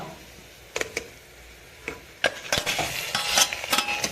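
Sharp scraping and clinking of a spoon stirring minced meat and onions in a pan over high heat with a faint sizzle, with irregular knocks growing busier toward the end.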